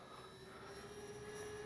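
Avios Twin Otter RC model plane flying, a faint, steady motor drone with a thin sustained whine, distant and constant throughout without talk.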